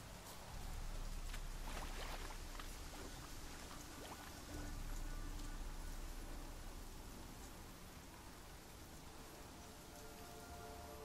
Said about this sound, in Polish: Zanosi się na deszcz.